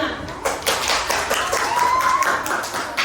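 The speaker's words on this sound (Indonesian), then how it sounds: "tepuk tangan untuk kelompok 5" Classroom clapping for a student group, a short burst of hand claps from several people, fairly near, with a voice and a brief whistle-like tone in the middle.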